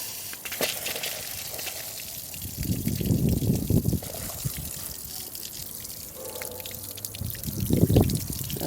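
Water from a garden hose pours and trickles into an Erickson boat motor flusher, a steady splashing flow that swells in louder bursts, close by with no talk.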